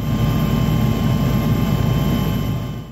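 A police helicopter passes overhead on traffic and security patrol, a loud, continuous rotor-and-engine roar that holds steady throughout and eases slightly at the very end.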